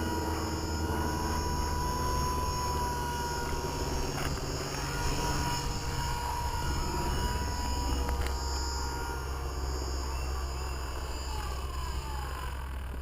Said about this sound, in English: Very stable helicopter.